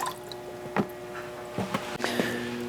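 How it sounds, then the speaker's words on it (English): Water drips from a removed RO/DI filter membrane lifted out of its housing, a few scattered close drips and small splashes over a quiet background, with no voices. "it's going to drip out some water"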